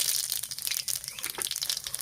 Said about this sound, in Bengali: আর রাঁধুনিটা এরকম হাতে একটু ঘষে দেবো।